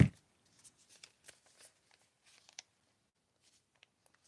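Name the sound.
cutting up a piece of paper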